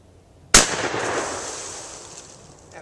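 A Stevens Model 94 16-gauge single-shot shotgun fires once at a bottle outdoors, a sharp loud blast followed by a long fading echo and no voices.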